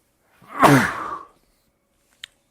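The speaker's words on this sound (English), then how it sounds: "I gotta fucking sneeze" One sharp, close sneeze with a quick intake and explosive burst, followed by silence and a tiny click.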